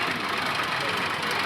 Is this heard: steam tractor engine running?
yes